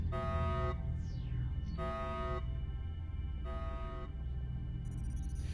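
A horn honks in three long, steady blasts with short gaps between them, over a constant low engine-like rumble and faint electronic game effects in XCOM: Long War.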